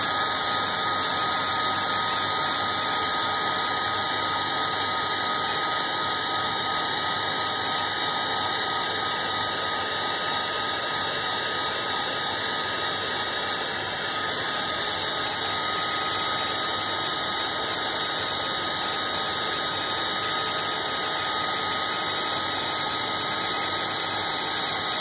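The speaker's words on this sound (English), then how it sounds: "And then back in with a hairdryer." A hairdryer blows continuously at a steady, loud pitch for the whole stretch, with no other sounds.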